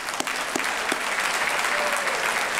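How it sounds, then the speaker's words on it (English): Sustained round of applause from an audience at an annual men's breakfast meeting, a dense crowd of clapping hands steady throughout, with no talk over it. "Let's give that a round of applause."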